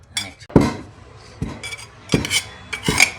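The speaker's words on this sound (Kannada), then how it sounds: "ಚೆನ್ನಾಗಿ ಕುಟ್ಟಬೇಕು ಅದು ಎಲ್ಲ ಸಣ್ಣ ಆಗತ್ತ" A pestle thuds again and again as North Karnataka niger seed chutney powder is pounded in a mortar. About five sharp, clinking knocks come at uneven intervals, close by, with no talk.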